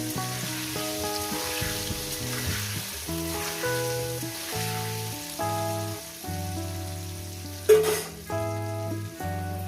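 Potato pieces fry in oil with a constant crackling hiss that runs under prominent melodic background music, with one sharp clatter partway through.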